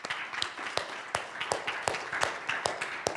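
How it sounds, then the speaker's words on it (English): Applause for the fathers at a church Father's Day service: sharp, fairly close claps land in a regular rhythm about three per second, with scattered softer claps from the congregation in between. "So a little round of applause for them."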